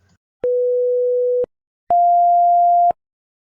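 Two pure electronic tones play one after the other in silence, each held steadily for about a second, the second slightly higher than the first.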